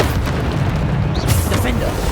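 A Bombarda spell explosion in the game Hogwarts Legacy, a loud dense boom with a rumbling low end and crackling debris, heard up close while a voice speaks over it.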